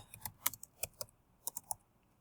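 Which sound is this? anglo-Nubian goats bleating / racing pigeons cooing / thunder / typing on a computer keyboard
typing on a computer keyboard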